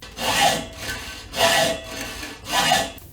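A hand saw cuts a slot in a bicycle seat tube held in a swivel vise, three slow, close rasping strokes, each rising and fading with a brief gap between.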